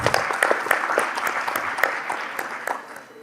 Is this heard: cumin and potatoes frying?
no